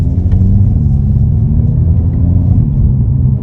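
Deep, steady exhaust rumble of a 2022 Hyundai Kona N heard from inside the cabin, loud and continuous with a low throaty drone.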